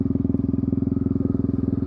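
A Yamaha MT-03 motorbike sits idling close by, its engine pulsing in a quick, regular low rumble that stays steady throughout with no voices over it.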